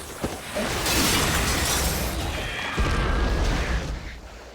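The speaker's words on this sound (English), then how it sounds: "I don't remember, like, a glass breaking noise." Glass shattering in the Resident Evil video game, a bright crash of breaking glass followed by a sustained tinkling spray of fragments, with a low thump partway through.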